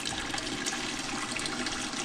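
Engine oil drains steadily out of an engine with a constant rushing, pouring flow that holds an even level from start to finish.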